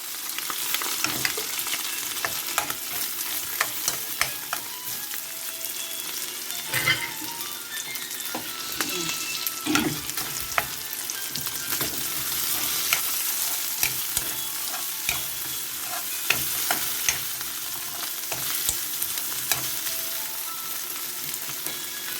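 Aromatics for pinakbet with pork sizzle steadily in hot oil, stirred with a utensil that scrapes and clatters against the pan in irregular bursts, close and fairly loud, with no talking.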